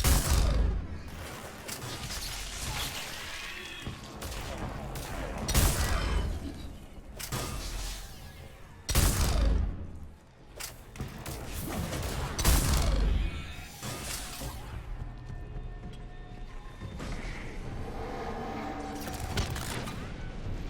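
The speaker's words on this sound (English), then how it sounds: "Someone's shooting at me" Repeated bursts of gunfire in the sci-fi shooter Mass Effect 3 Remastered, sharp loud volleys arriving in irregular clusters through a chaotic battle soundscape with whooshes and impacts, and a short lull around the middle.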